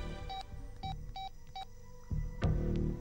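A telephone keypad dials out for a conference call: several short, evenly spaced touch-tone beeps sound clearly at close range, followed by a click and low line noise as the call connects.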